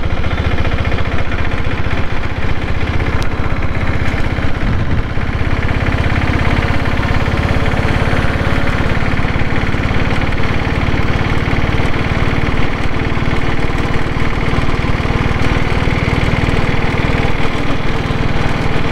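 Royal Enfield Diesel Bullet engine running steadily for the whole span, a loud continuous diesel throb with a low rhythmic chug and mechanical vibration, close by and alone.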